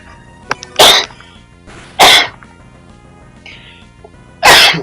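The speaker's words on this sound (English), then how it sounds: "I always start to cough whenever I'm recording." A person coughing while recording a Pokémon game: three loud, close bursts spaced a second or two apart, each a sharp, breathy explosion, with faint game sounds and small clicks in the quiet between.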